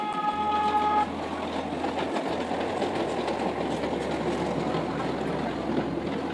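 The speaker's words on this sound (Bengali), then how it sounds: "আর এই যে ট্রেন আসতেছে, বাচ্চাদের জন্য এটা বেশি ভালো হবে।" A small children's park train rumbles past at Amanipur Park in Moulvibazar with steady rolling clatter, and a brief whistle toot sounds at the start.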